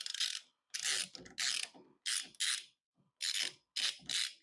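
A ratchet clicks in quick repeated bursts while bolts are backed out of a Jeep side mirror: seven or eight short, crisp, close ratcheting runs separated by brief silences.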